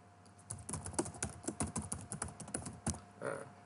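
Steady, fast typing on a computer keyboard during Thai typing practice, a dense run of close, crisp key clicks with brief pauses and no talking.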